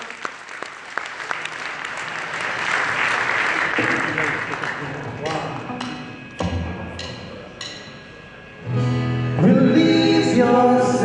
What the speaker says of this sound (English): Let's give them a big round of applause, everyone.